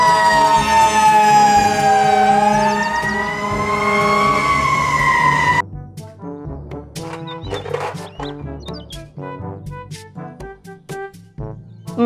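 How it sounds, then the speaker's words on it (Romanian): A loud fire truck siren wails in rising and falling sweeps for several seconds, then cuts off, leaving a rumbling engine with scattered clanks and knocks. "Mobil, truk pemadam kebakaran."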